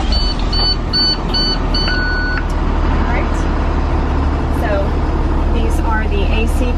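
A school bus engine, started with the ignition key, runs with a loud, steady drone. A few electronic warning beeps and chimes sound early on, and a voice talks over it.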